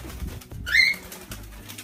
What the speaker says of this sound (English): a bird flew by on my window